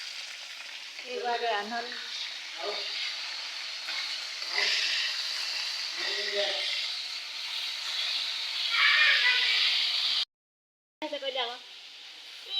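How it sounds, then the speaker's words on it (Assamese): Local fish frying in a pan, a steady loud sizzle and hiss running throughout with occasional stirring, while someone talks over it at intervals. "ফ্ৰাই কৰি আছোঁ।"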